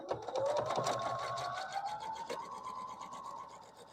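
A sewing machine stitches a quilt block along a marked line, its rapid needle rattle close and loud at first, then easing into a steadier, softer whir over four seconds.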